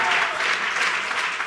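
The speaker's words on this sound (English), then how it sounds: "A round of applause for Augustine." A television studio audience claps for a contestant, a dense, steady wash of applause that is loud and close throughout the short burst.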